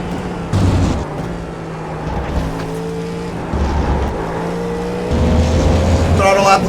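A Porsche 963 prototype race car drives a lap at Road Atlanta during the IMSA Petit Le Mans, its engine droning steadily with gear changes and rising revs, loud and close throughout.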